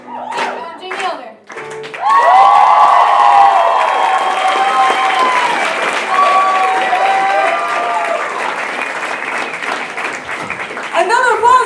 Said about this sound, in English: Another applause for Jamie!